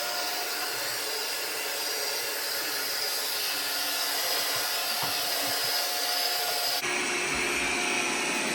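A Roidmi EVA robot vacuum cleaner runs without mopping, giving a steady close whirring hiss with faint rubbing bumps, then shifting to a higher, brighter whine near the end.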